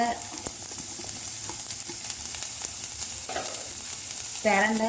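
Shallots sautéing in a pan for a mixed chutney, giving a steady close sizzle with light stirring scrapes throughout and a few brief tonal clatters near the end.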